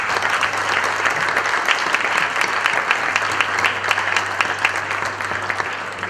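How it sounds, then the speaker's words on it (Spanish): Sustained audience applause at a professional meeting on civil liability, a dense, steady wash of many hands clapping throughout, fairly loud with a low constant hum underneath and no talking. "Omití de pedir un fuerte aplauso para dar comienzo a la reunión."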